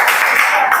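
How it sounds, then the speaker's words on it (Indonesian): A group claps together in a classroom, a brief, steady patter of many hands at close range. "tepuk tangan buat kita semuanya."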